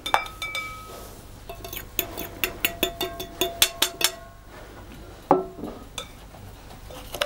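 Eggs and sugar are beaten by hand in a bowl for rosquillas, giving a quick run of sharp metallic clinks and taps in bursts, with scattered single knocks near the end.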